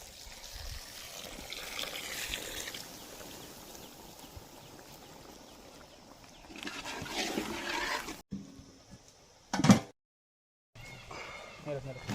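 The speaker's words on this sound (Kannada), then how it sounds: "ಸ್ವಲ್ಪ ನೀರು ಹಾಕ್ತಾ ಇದ್ದೀನಿ, ಜಾಸ್ತಿ ಏನು ಬೇಡ." Water is poured into a country chicken curry being made as a butter chicken fry, giving a steady, fairly close splashing hiss for several seconds that ends in a brief louder splash and then silence, with a voice talking over it.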